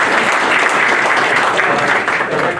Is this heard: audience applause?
yes